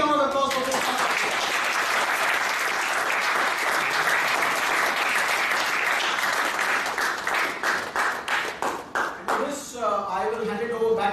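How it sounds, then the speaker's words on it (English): An audience applauds at a Toastmasters club's 200th meeting: loud, dense clapping holds steady for several seconds, then thins into scattered separate claps before a voice starts speaking. "a big round of applause for Toastmasters"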